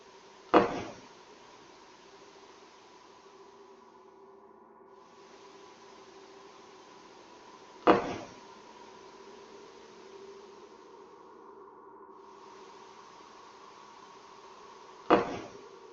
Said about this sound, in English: A knock, responding to Reed's request, on what sounds like a wooden door, cabinet, or perhaps the wood paneling in the third-floor bathroom